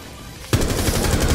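Rapid automatic gunfire from Rainbow Six Siege bursts in loudly at about half a second and keeps rattling in a dense, continuous stream through the rest of the moment, after near quiet.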